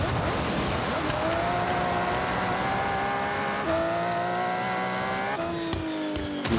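Rally car racing in Forza Horizon: a steady engine drone with rising revs and gear shifts, continuous and close, with tire noise over a long rally stage run.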